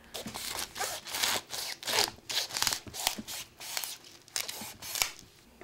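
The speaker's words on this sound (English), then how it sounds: "to just take the whole top off. That's when the big knife comes out." A big knife saws through the tough leafy top of an artichoke, with close, rhythmic rasping strokes and crunching cuts repeating steadily, fairly quiet and with no voice.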